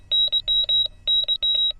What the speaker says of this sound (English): I made a ringtone